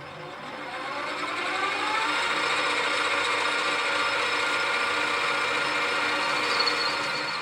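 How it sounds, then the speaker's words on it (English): A metal lathe parting tool cuts off a screw, a steady close grinding whir that builds up over the first second and holds evenly to the end, with no talk. "I'll rest the head under the parting tool, and using the lathe carriage, move that tool along 10mm according to the hand dial."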